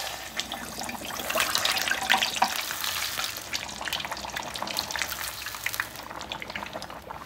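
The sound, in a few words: deep frying in very hot cooking oil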